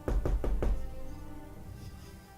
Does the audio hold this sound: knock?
yes